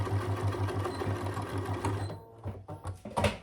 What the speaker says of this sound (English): I'm just going to do 3 rows of stitches. One in the center and then one on each side.